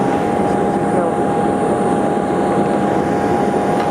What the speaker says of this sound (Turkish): Uçak motor çalıştıracak ve e, öne doğru taksi yaparak tekrar piste doğru e, yoluna devam edecek.